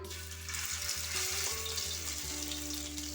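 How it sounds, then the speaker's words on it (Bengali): Ground ginger and chili paste sizzles in hot oil in a wok, a steady bright frying hiss with a low hum and a few soft stirring knocks throughout. "এবার কড়াইয়ে দিয়ে দেব আদা লঙ্কা বেটে রেখেছিলাম।"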